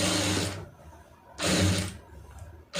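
A sewing machine stitches a blouse lining in short, close bursts: two runs of rapid mechanical whirring separated by a pause, then a brief start at the very end.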